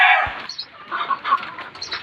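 Chickens at a farm selling Egyptian-breed and local chicks cluck in a low continuous chatter, moderately close, after a brief thump at the start.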